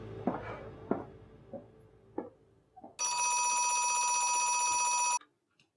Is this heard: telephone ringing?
yes